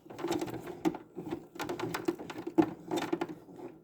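A sewing machine runs in short bursts while back stitching the end of a seam on a fabric bin, with brief pauses and clicks between runs, close and fairly loud.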